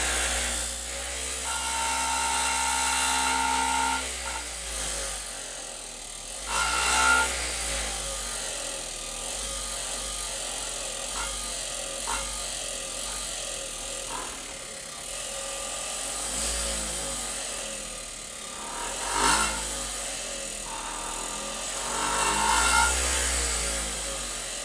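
An electric motor in a plasma ball experiment spins up to full speed, a steady whirring drone with rising and falling surges in pitch and loudness, heard alone without voices.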